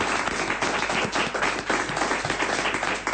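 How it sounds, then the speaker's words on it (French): A television studio audience applauds a guest, a dense continuous wash of clapping that stays loud and even throughout. "on vous applaudit"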